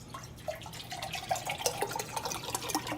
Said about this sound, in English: You pour 1 1/2 cups of cold water over everything.